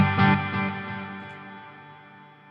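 Guitar notes ring out through a NUX Atlantic delay and reverb pedal, a couple of picked attacks followed by a lush, sustained wash of echoing reverb that slowly decays, with no voices over it.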